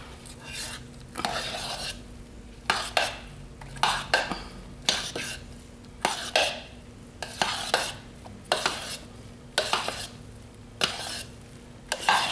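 A utensil swirls through thick homemade soap batter coloured with turmeric, making repeated wet scraping strokes about once a second, close and fairly loud with no talk.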